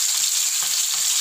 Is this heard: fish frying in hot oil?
yes